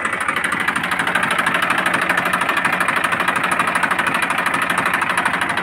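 A 2011 Massey Ferguson 1035 DI tractor diesel engine idles steadily up close, a continuous loud rumble with a fast, even knocking pulse throughout.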